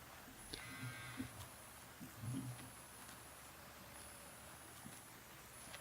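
Ayrshire cow in Farming Simulator 19 letting out a couple of low moos over steady machine hum, with short lowing calls near the start and middle.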